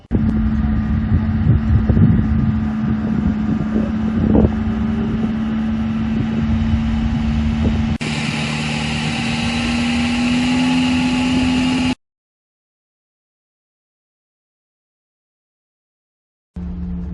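An MG Midget race car howls through a timed sprint lap on a dry, warm track, its engine a loud, steady drone heavy with wind buffeting for about twelve seconds, then the sound cuts to silence before briefly returning.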